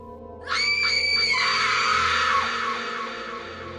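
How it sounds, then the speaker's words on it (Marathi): A woman lets out a terrified, piercing scream in a thriller story, starting abruptly after a short quiet lead-in and then holding loud and sustained before trailing off slowly. "प्राणांतिक किंचाळली"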